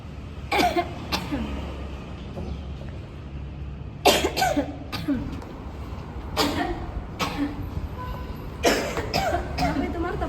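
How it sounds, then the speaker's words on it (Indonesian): Someone coughs repeatedly in short bursts, often two at a time, close by, with quiet gaps between the fits. "Dari tadi kulihat kau batuk-batuk terus."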